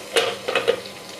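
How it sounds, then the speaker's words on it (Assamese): Small brinjals frying in oil under a lid in a covered pan over a low gas flame, giving a soft steady sizzle with a few brief louder bursts, no talking. "এখানে কম কমপ্লিট ভাজি আছোঁ এতিয়া ইয়াতে মই ঢাকনিখন লগাই দিছোঁ"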